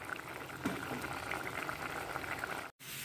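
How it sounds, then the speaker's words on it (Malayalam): Prawn curry soured with kudampuli bubbles in a pot, a continuous close, fairly quiet gurgling boil with a brief drop to silence near the end. "കറി നന്നായിട്ട് തിളക്കുന്നുണ്ട്"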